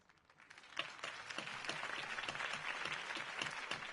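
Crowd applause ringing out after a campaign speech in Batman: The Telltale Series, a dense, steady wash of clapping that swells within the first second and holds at a sustained level throughout.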